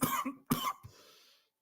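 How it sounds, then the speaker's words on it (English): Two sharp, close coughs in quick succession, followed by a brief softer throat sound, with no talking. "my fucking cough has been unrelenting tonight"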